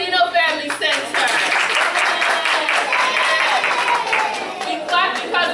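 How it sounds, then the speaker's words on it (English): An audience claps steadily in a dense, close ripple of applause that holds for several seconds, with voices and cheering mixed in. "We clap because we miss you."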